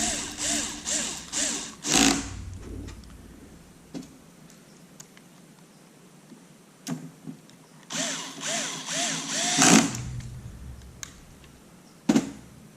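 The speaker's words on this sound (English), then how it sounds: "set the drill driver here, or the screwdriver here, to a low torque rating" A cordless drill driver set to low torque whirs in short bursts while driving screws on a server, with a rapid clicking clutch as screws seat, separated by quiet pauses and occasional clanks.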